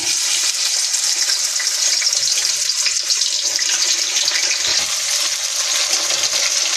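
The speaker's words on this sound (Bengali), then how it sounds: "বিনসগুলো তো একটু ভাজা ভাজা হয়ে গেছে" Beans fry in white oil for chow mein, giving a steady, bright crackling sizzle, close and unbroken throughout, with no voices.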